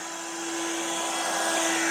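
A vacuum cleaner switched on while cleaning a video board with RGB strip lighting: a steady, loud whining motor hum that swells slightly as it spins up, heard alone.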